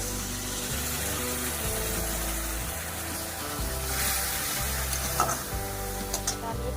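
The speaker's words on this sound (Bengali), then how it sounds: "এবার দেবো হলুদের গুঁড়ো, একটু জল দিয়ে দিই, নাহলে মশলাটা কিন্তু পুড়ে যাবে।" Turmeric powder, spices and ginger-garlic paste sizzling loudly in a pan for Bengali chicken and potato curry, with steady frying hiss, stirring scrapes and a splash as water goes in.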